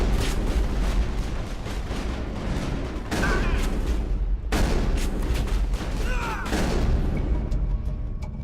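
Dense, continuous gunfire and booming blasts fill a Mass Effect firefight, with loud rolling bursts and explosions layered without pause from start to finish.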